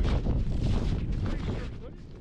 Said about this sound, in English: It's a little breezy up here, isn't it?